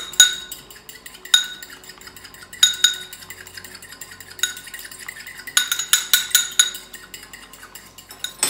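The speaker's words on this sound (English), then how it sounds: "So you just get your egg white and beat it with a fork." A fork beats an egg white in a bowl, giving bright, irregular clinks and taps of metal on the dish, with a few sharper knocks scattered between quicker bursts of clinking.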